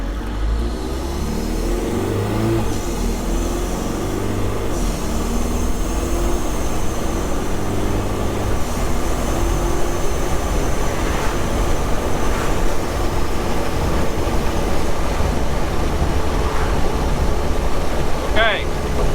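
A Jeep TJ Wrangler with a TDI diesel engine swap cruises at 55 mph, giving a loud, steady engine and road roar with wind rush throughout.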